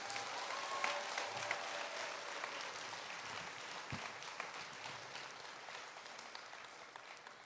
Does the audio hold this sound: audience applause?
yes